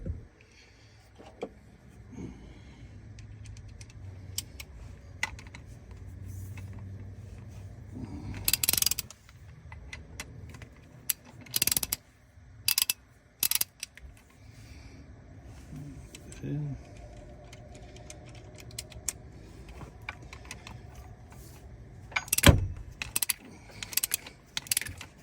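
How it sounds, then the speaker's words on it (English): A torque wrench tightens injector hold-down bolts on a 1999 Cummins N14 Celect Plus engine, giving sharp ratcheting clicks and metallic clacks in bursts over a steady low shop hum, with people talking nearby. "now we gotta torque them down"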